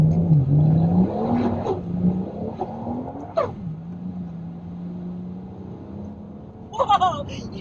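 A Ford XR6 Turbo ute fitted with a GTX3582R turbo revs hard on a dyno with its wheels spinning; the engine note climbs and holds loud and close, with a sharp burst near the end and voices faintly underneath.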